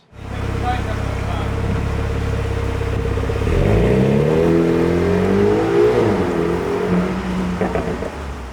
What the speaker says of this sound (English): I want to see what it sounds like when you're going through the gears